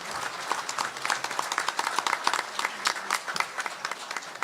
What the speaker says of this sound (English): Let's give another round of applause for the work you're doing.